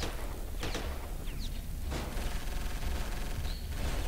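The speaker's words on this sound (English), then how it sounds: "Falcon cannons are pretty pathetic at what they do." Falcon cannons fire during a space battle in the Starsector video game. Several heavy booming shots land at irregular intervals over a dense, noisy combat backdrop.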